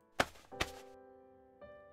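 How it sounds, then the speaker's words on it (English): Two sharp, dull thumps land in quick succession as fists pound on a chest, followed by a fainter third bump against a lingering soft background tone. "starts pounding my chest before bumping her head against it."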